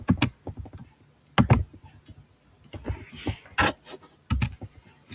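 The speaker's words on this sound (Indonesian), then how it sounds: "Di sini kita retype lagi, kita disuruh ngetik ulang." Computer keyboard typing comes in quick, close bursts of clacking keystrokes with short pauses between runs, fairly quiet and with no talking.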